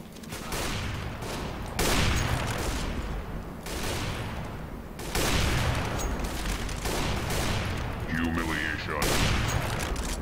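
Dense, loud gunfire from the video game CS:GO rolls on in heavy overlapping bursts for the whole stretch, with brief dips between volleys and voices faintly beneath.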